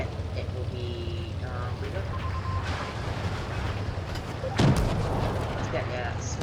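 Tank cannon fire and battle noise in World of Tanks Blitz, a low rumbling engine drone with a sharp heavy blast near the middle, under a game announcer voice.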